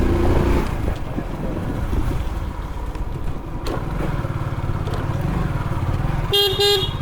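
A motorcycle is ridden along a road, its engine note rising and falling steadily close by, ending in a short burst of horn honks near the end.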